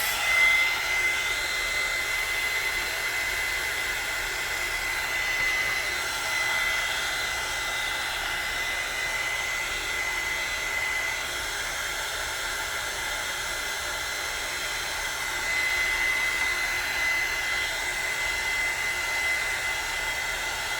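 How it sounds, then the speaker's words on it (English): A heat gun blows on decoupaged paper in a journal, producing a loud, continuous airy roar that holds steady for about twenty seconds with no talking. "So I'm going to take my heat gun to this."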